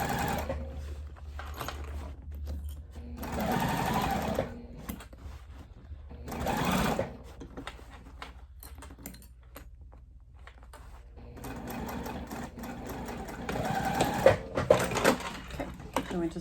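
A sewing machine runs stay stitches along a backpack panel in several separate bursts, each a few seconds long, with quiet pauses between them and a louder final run near the end.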